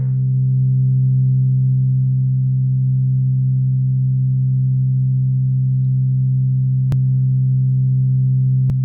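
A looped sample plays in Reason 5 with a crossfade at the loop point, holding a steady, loud sustained tone with strong low harmonics and no voices, while two brief clicks near the end mark the loop seams.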